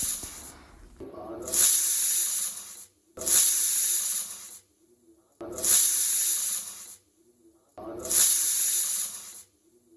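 A pressure cooker cooking lentils for puran poli over a medium-low flame blows its whistle four times. Each loud hissing burst lasts a couple of seconds, with near-silent gaps between them in a regular rhythm.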